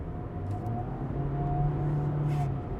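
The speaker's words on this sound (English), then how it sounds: "you do get this very weird whistle when you put your foot down" An MG3 Hybrid accelerating with a faint, steady whine, a thin tonal whistle drifting over a low road and cabin rumble, no talking.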